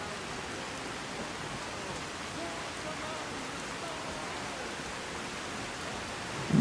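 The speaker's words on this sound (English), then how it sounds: "Sees everyone scattering to try and stay out of the rain." Steady rain hisses down in the video game Skyrim, a dense, even wash of falling drops that continues unbroken, with a brief bump of louder noise at the very end.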